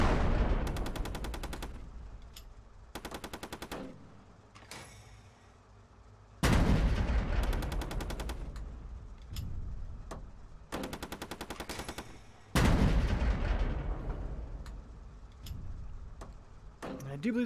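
The coaxial machine gun of a T-34 tank fires tracers in a video game: several loud, rapid bursts of rattling automatic fire, each followed by a decaying rumble, separated by brief pauses, with no talking.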